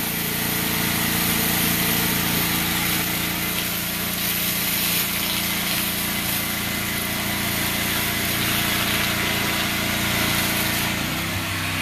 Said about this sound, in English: The loud noise that you all hear is the generator.